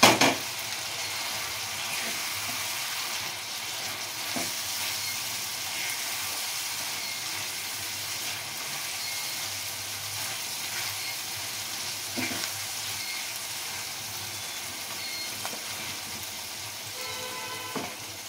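Battered bhetki fish pieces sizzle steadily in hot oil in a pan, a dense continuous frying hiss running evenly throughout with a few faint clinks and no talk.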